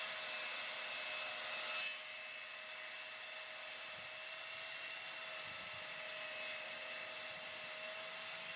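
A hand tool shaves a wooden edge for outdoor furniture with soft rubbing strokes, a brief louder scrape near the start, then quieter rasping under a steady background hum.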